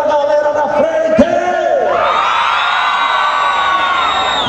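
Rodeo crowd at an opening ceremony roars with sustained shouting, whoops and cheering, a dense wall of voices that swells louder midway and holds steady.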